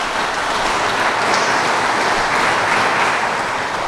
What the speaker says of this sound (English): for that they deserve a round of applause.